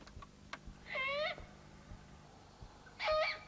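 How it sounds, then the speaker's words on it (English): An immature great horned owl gives two loud, harsh screaming calls, each about half a second long and separated by a gap of roughly two seconds, against faint background noise. "It could be an immature great horned owl."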